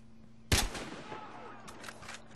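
A single loud, close gunshot from a Battlefield Hardline match cracks out and rings into a decaying tail, with a few fainter shots following later.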